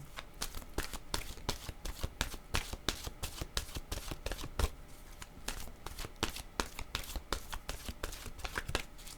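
Oracle cards from an intuitive soul deck are shuffled by hand in a quick, steady run of crisp riffling slaps that repeat for the whole stretch at close range, with no talk.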